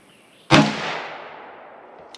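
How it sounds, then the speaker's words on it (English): A single sharp gunshot from a 10mm pistol firing Underwood 155-grain XTP jacketed hollow point ammunition, loud and close, with a long ringing decay trailing off over about two seconds outdoors. "let's go ahead and put these other 4 rounds through here"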